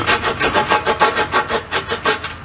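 A hand saw cuts a shallow notch into a wooden volleyball net post, steady rhythmic back-and-forth strokes about five per second, close and loud with no talking.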